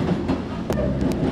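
A Kintetsu express train rolls along the rails with a loud, steady rumble and a couple of sharp wheel clicks, heard from close inside without voices.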